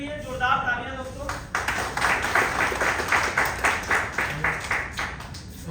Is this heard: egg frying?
no